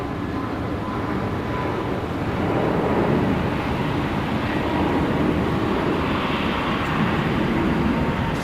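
A Jetstar airliner departs Brisbane Airport, its engines a loud, steady broadband roar that swells slightly midway and holds at a distance, with no talking.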